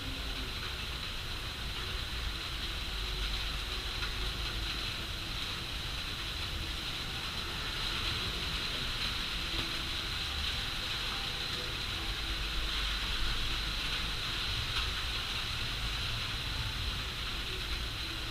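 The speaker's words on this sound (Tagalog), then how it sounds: "Maulan kasi. Sobrang ulan." Heavy rain pours down in a dense, steady hiss that runs unbroken throughout, fairly quiet and even, with no clear voices on top.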